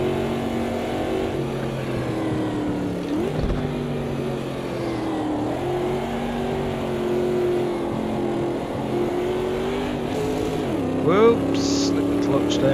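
Mercedes 300 AMG engine in the Automobilista 2 racing game, a sustained droning race-car note rising and dipping through gear changes as the back steps out, with a voice talking over it.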